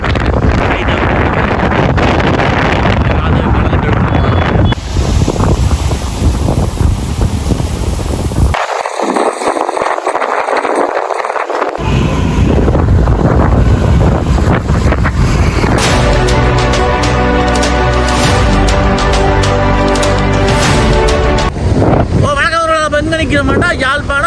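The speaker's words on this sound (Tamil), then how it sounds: "இப்போ சூறாவளியால் பல்வெட்டு கடலெல்லாம் செம்மையாக கொந்தளிச்சு கொண்டிருக்கு பாருங்க" Strong cyclone wind buffets the microphone while rough sea waves churn and crash nearby at Valvettithurai, Jaffna, a loud, continuous roar with a brief drop-out midway.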